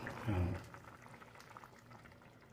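Fish and vegetables simmering in coconut milk inside a covered pot give a steady, low bubbling boil. A brief voice is heard near the start.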